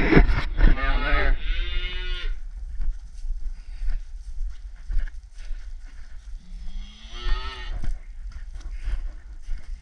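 Red Angus cattle low loudly at close range, two drawn-out moos, one at the start and another near the end, over faint outdoor background noise on a ranch.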